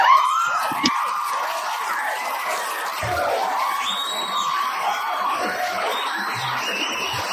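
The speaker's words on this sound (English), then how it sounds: "This is a round of applause right here" A crowd cheers and whoops with clapping mixed in, a steady, loud roar of yells and screams that carries on throughout without pause.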